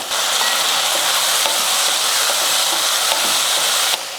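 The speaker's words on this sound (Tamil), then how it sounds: "தக்காளி வெங்காயம்லாம் நல்லா வதங்கிடுச்சு" Tomatoes and onions sizzle loudly and steadily in a hot pan, with occasional stirring clicks, ending abruptly.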